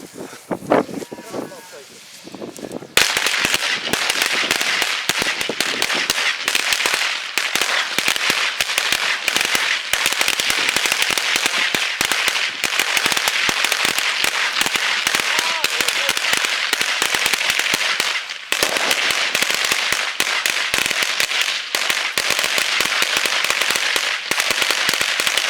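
Daytime New Year's firecrackers going off in a long crackling barrage of dense, sharp pops after a brief quiet start, loud and close, with people talking intermittently.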